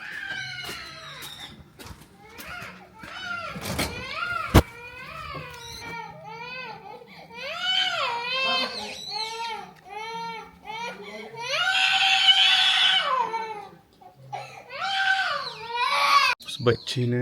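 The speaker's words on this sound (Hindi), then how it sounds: "किसका बच्चा रो रहा है सुबह सुबह बाहर।" A young child cries loudly outdoors in the morning, with long, rising and falling wails repeated in a steady string of sobs over roughly seventeen seconds, close and insistent, with faint bird or rooster calls in the background.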